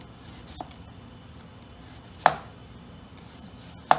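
A knife cutting thin slices from one giant garlic clove on a board, two or three sharp close chops against a quiet background, no talking.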